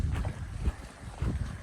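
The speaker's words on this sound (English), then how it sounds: "Pretty darn windy day, actually." Strong wind buffets the microphone in low rumbling gusts on a hiking trail near Green Lakes in the Three Sisters Wilderness, loud and continuous with no voices.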